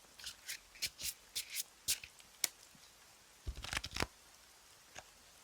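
Tarot cards are shuffled by hand in a series of quick crisp riffling bursts, then a short pause before a few more shuffles and a card being drawn, close and quiet with no talk.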